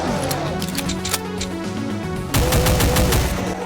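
Chaingunners rattle off chain gun bursts in Doom 2, with rapid gunfire layered over game music, a louder sustained volley breaking out in the second half.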